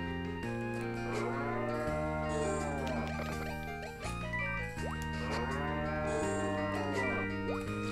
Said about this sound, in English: Alright, cow. Let's attend you.